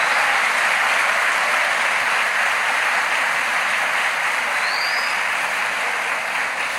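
Church congregation applauding in honour of the Lord, a dense, steady wash of clapping that fills the room evenly from start to finish with no voices breaking through.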